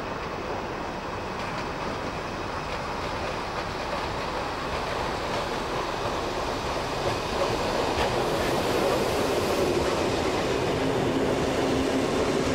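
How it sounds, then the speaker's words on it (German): Glass train of the Trossinger Eisenbahn running steadily on its rails, a continuous rumbling roll with faint clickety-clack that holds fairly constant and swells slightly toward the end. "Wenig später ist der Zug auf dem Weg."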